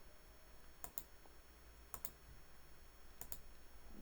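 Computer mouse clicks while options are selected in payroll software, three pairs of sharp, quiet double clicks spaced about a second apart over a faint steady background hum.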